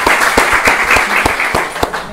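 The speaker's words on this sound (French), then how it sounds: "une bonne main d'applaudissements" An audience at a fundraiser prize draw claps in steady, fairly loud applause, with a few sharper individual claps standing out over the continuous patter.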